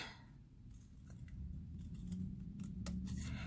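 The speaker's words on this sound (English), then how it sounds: "we're just going to take our scissors" Quiet, crisp snips of scissors cutting through paper, a few irregular cuts close by, with no one talking.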